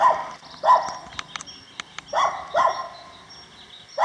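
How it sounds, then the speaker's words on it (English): A dog yaps repeatedly outdoors on a hillside walk along the Portuguese Way between Alvaiazere and Rabacal, sharp separate barks in irregular bursts at moderate distance, with a few faint clicks in between and no talking. "If this dog wasn't yapping."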